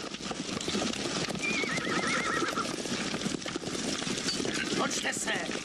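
Horses galloping with clattering hooves and a shrill whinny partway through, loud and close in a chaotic chase scene from a 1975 Soviet drama, with shouting voices mixed in.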